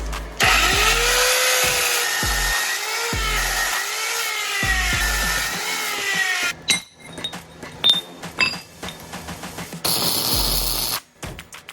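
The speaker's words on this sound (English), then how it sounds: "Just drilled a couple of holes in here and just tuck some bolts through" A power drill bores holes while a shelf is built for a DIY racing sim, with loud revving whines rising and falling in bursts, then clattering knocks, taps and metallic clinks of bolts and parts.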